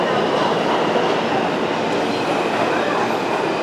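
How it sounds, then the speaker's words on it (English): A New York subway train pulls into the 23rd Street station with a loud, continuous rumbling roar of wheels on rails that holds steady throughout, with no talking. "And here's my train now."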